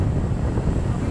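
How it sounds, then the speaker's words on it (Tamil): A speedboat runs fast on open sea between Phuket and the Phi Phi islands, with a dense, steady low engine-and-water roar buffeted by wind on the microphone, loud and continuous throughout. "நம்ம போட்டு இப்போ பயங்கர ஸ்பீடாக போய்கிட்டு இருக்கு"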